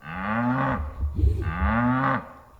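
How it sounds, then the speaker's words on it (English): Cows low near a rural vineyard, two long, deep moos with a brief rumbling gap between them, fairly clear and carrying across the open countryside with no one speaking. "There are all these cows mooing off in the distance."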